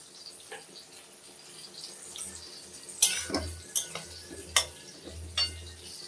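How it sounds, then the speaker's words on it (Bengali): Masala with Kashmiri chilli powder is stir-fried in a pan for a boal fish curry with tomato and potato, a faint sizzle under repeated sharp scraping and clinking stir strokes; no talking. "আমি আর একটু কষাবো আরও পাঁচ থেকে ছ মিনিট কষাবো"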